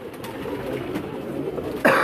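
Pigeons coo on a Karachi rooftop in a steady, low, murmuring stream that goes on throughout, with a sharper, louder burst of sound right at the end.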